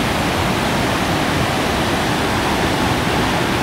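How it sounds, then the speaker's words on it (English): Waterfall on the West Fork of the Pigeon River, beside Highway 215 by a rock bridge and culvert, roars as a steady, loud, close broadband rush of falling water with no pauses and no voices. "This is the beautiful waterfall right on Highway 215 on the other side of the Blue Ridge from Adventure Village."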